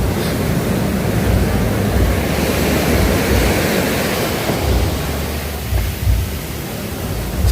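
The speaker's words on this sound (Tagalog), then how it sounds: "Yan o, laking alon o." Big ocean waves crash and roar continuously along a shore where a hut stands, as a loud, dense, surging wash with only slight swells in strength.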